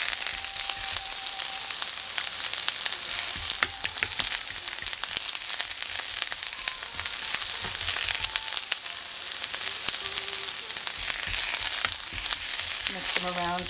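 Onions fry on high heat in a pan with a steady, dense sizzle and crackle throughout, close and moderately loud, with occasional light stirring and no talk.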